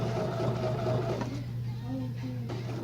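A Bernina sewing machine runs steadily along a zipper bag seam, a close continuous motor hum with faint stitching clatter that eases off partway through.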